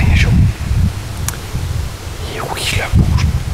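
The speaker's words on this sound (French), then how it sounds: "il y a beaucoup de vent" Strong outdoor wind buffets the microphone in heavy, low rumbling gusts that swell and ease throughout, with faint rustling on top.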